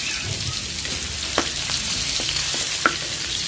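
Garlic dropped into cooking oil, frying in a pan with a dense, loud hissing sizzle that holds steady, broken by a few sharp pops and stirring clicks, close by and with no one talking.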